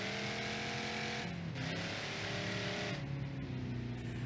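A car engine in the driving game BeamNG.drive revs hard and steadily, its tone rising and falling with throttle changes, loud and close throughout, with no talking.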